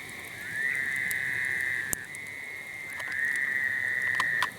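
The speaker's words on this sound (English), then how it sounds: "It is awful quiet out here tonight, other than the frogs." Frogs calling at night by a lake in long sustained trills, one after another, steady and fairly near, with a sharp click partway through and no talking.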